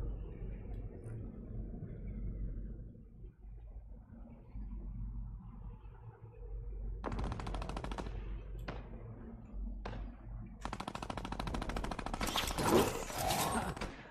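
Rapid bursts of gunfire in Fortnite Team Rumble crackle in separate volleys over a low rumbling background, growing louder and denser toward the end.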